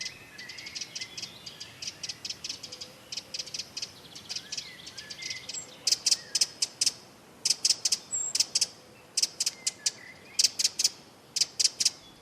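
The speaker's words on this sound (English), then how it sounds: "They're coming from one of Germany's smallest birds, the wren." A wren gives excited scolding calls from dense holly undergrowth deep in a German forest: bursts of rapid, dry rattling ticks, close and sharp, growing louder and more spaced into distinct rattles toward the end.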